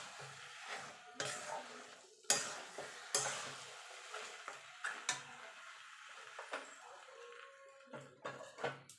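A spoon scrapes and clinks as cooked cabbage with fish head is moved from a pan into a pot, making irregular metallic taps and soft sizzling scrapes, close and fairly quiet.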